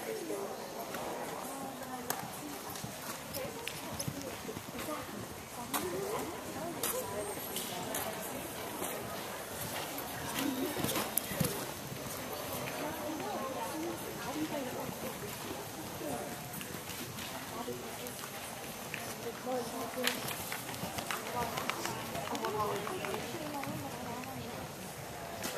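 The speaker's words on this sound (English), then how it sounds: "Please set to the canter now." Horses canter around an indoor riding ring at a holiday horse show, their rhythmic hoofbeats muffled and steady beneath an announcer's voice, with faint bird coos in the background.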